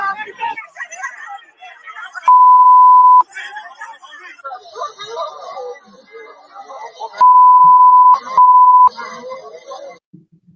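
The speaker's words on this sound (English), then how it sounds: "Lots of beeping too" Electronic beeps sound in footage at a detention facility, a long steady tone followed later by two more, cutting through background crowd chatter and voices.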